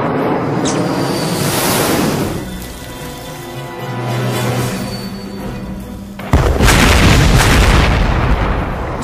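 A loud, sustained rushing blast with deep rumbling marks an airborne laser weapon firing from a General Atomics Avenger stealth drone, swelling and dipping before a sharper, louder burst near the end.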